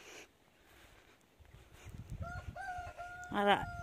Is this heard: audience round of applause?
no